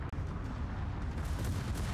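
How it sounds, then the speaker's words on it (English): Warship guns firing in World of Warships, a low, heavy rumble of distant naval artillery with overlapping booms, continuous and moderately loud, with no voices. "Rubber Bandman now just opening up with his guns."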